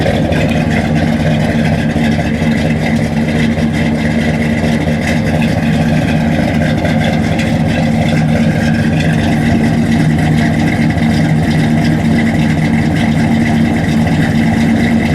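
A 1964 Ford Galaxie 500XL two-door hardtop with a 390 V8 idles close by, a loud, steady, throbbing burble holding an even pace throughout with no talk.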